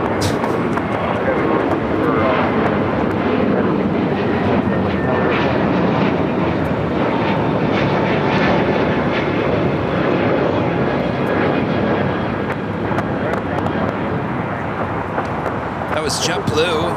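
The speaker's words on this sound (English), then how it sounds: "That was JetBlue, flight 1524 heading to JFK. A321neo, brand new, just delivered in June." A JetBlue Airbus A321neo jet, bound for JFK, passes at LAX with a loud, broad engine roar that holds strong for the whole stretch and fades slightly near the end.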